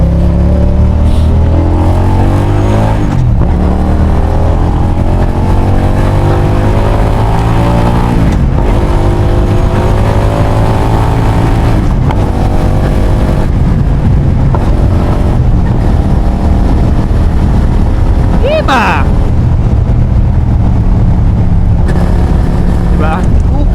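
Heavy motorcycle weighing about 208 kg on a test ride in Australia after an oil change, its engine and exhaust droning steadily with rising and falling revs through gear changes, wind noise and a voice talking over it throughout.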